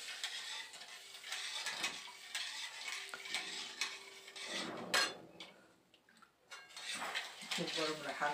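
Pitha batter being stirred and mixed in a bowl, with steady scraping and soft clinks of a utensil close by, interrupted by a louder knock and a short pause.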